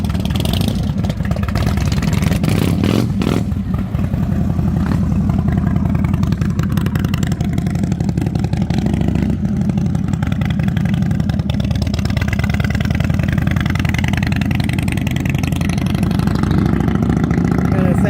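A custom Harley motorcycle built twenty years earlier rumbles steadily and close by with a deep engine throb, revving as it is ridden, while people's voices come and go faintly over it.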